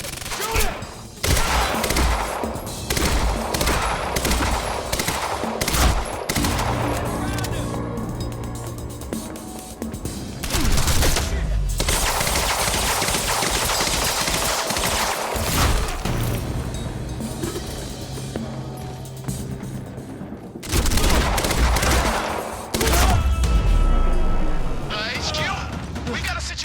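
Heavy automatic gunfire in the video game Quantum Break roars almost nonstop in long loud bursts with deep booming impacts, while voices shout over the din.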